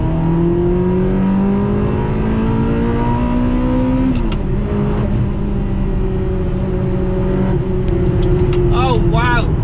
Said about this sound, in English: let's put this car into sport mode and see what it can do on roads like these